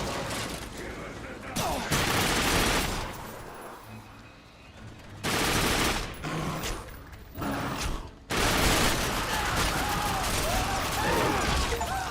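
Dual-wielded guns blaze in The Darkness 2, loud close bursts of rapid gunfire coming in several clusters separated by brief lulls, with faint game noise between.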